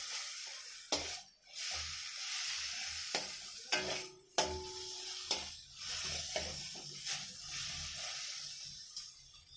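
Mashed drumstick leaves seasoned with garlic, onion and nigella seeds are stirred in a pan, giving a steady sizzling hiss broken by repeated scraping strokes of the spoon, close and alone without talk.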